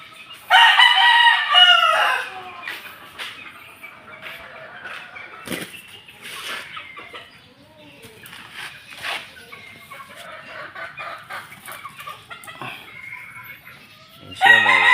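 Three-month-old backyard chickens cluck and crow at close range, with a loud rooster crow at the start and another at the end. Scattered softer clucks and calls fill the gap between them.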